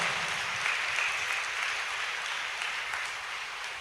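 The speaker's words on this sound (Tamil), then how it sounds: "கைத்தட்டி நன்றி சொல்லிடுங்க" Audience applause fills a church gathering during a Tamil Lent sermon, a steady dense clatter of many hands clapping loudly throughout, fading slightly toward the end.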